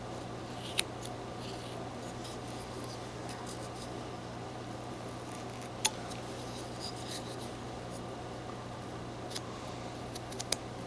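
A whittling knife shaves small cuts into a wooden deer carving, faint scraping strokes with a few sharp clicks over a steady background hum.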